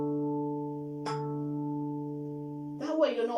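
A single handpan note struck with a quick bouncing thumb stroke rings out with a steady sustain, a light tap midway, then a voice begins speaking as it fades.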